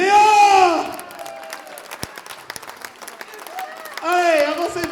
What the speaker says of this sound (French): je vous demande d'applaudir Léa!